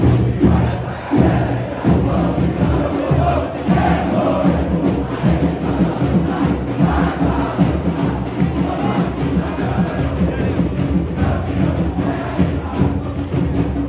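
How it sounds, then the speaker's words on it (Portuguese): Football fans of Vasco da Gama chant and roar at São Januário stadium during a home match, a loud, continuous crowd din with rhythmic thumps and shouts filling the whole stretch. "Pega o aquecimento da torcida, rapaziada,"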